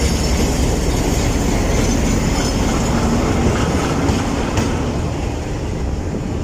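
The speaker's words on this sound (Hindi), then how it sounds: "ये हमारा आज का लोकोमोटिव आते हुए GU49023, ये अभी अटैच होगा 41 अब काराकोरम एक्सप्रेस से" Locomotive GU49023 rolling in to couple with the 41 Up Karakoram Express, a steady loud rumble of wheels and engine with faint clatter throughout, close by and without speech.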